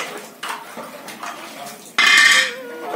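Dishes, pots and pans clatter in a home kitchen after night-time cooking, a few light knocks of metal and crockery building to a loud, bright crash of stacked utensils, then quieter handling.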